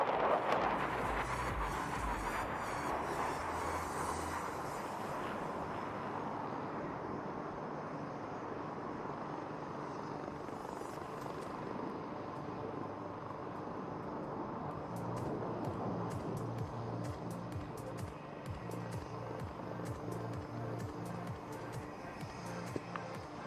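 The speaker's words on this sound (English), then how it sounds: "when the Sukhoi 30 is around, thunderous sounds are never far behind" A Sukhoi 30 fighter jet roars past during a flying display at the Aero India 2021 air show, a broad sustained engine rumble that stays loud and distant-sounding throughout, with wind buffeting the microphone.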